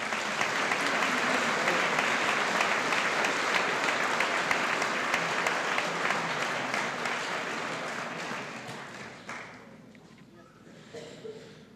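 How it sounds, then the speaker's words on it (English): A large audience applauds students at a high school awards night, sustained dense clapping that fills the hall and then tapers off toward the end, with a faint voice underneath. "Ladies and gentlemen, let's give these students a round of applause."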